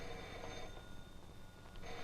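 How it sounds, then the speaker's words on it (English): A telephone rings indoors in a 1941 noir film scene, a steady ringing tone that runs across the whole short stretch at moderate volume with no talk over it. "Gee, there's our phone."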